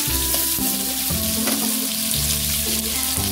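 Chayote sautéing in a hot pan, a loud steady sizzle and crackle throughout with occasional stirring scrapes.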